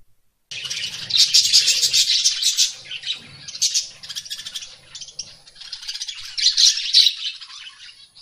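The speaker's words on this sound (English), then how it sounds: "P for parrot." A parrot calls steadily and loudly at close range, a stream of harsh chirps, squawks and rattling chatter with brief pauses between bursts.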